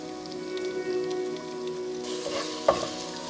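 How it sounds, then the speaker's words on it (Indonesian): Instant Tom Yum spice paste stir-fries in a pan, with a steady close sizzle and a few stirring scrapes and clinks. "Ini kita akan campur dan kita akan tumis sebentar."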